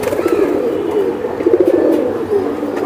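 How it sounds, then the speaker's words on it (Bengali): A silver bezi pigeon coos steadily and close up, its low throaty rolling calls running continuously for the whole stretch with no talk. "এটা সিলভার বেজি সুন্দর, এটা আসলে ছাড়ার জন্য উপযোগী একটা কবুতর"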